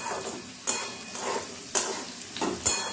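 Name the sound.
stirring potatoes with green chilli and sesame frying in pan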